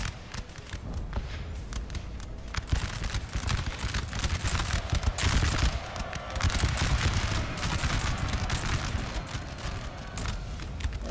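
Massed musket volleys crackle continuously in a Napoleonic-era battle in the video game Napoleon Total War, a dense, steady roar of overlapping distant shots with rumbling low-end noise and no talk.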